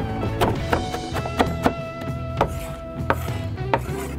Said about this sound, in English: next step, we're gonna chop up our bacon